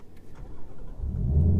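A car rolls past on a quiet road, its engine note swelling from faint to close and loud within a second or two, with no voices.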